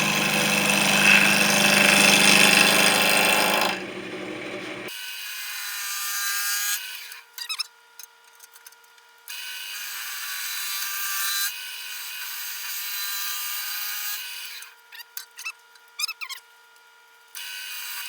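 A wood lathe turns a chestnut oak bowl, giving a loud, steady whirring scrape at first, then quieter, intermittent bursts of cutting.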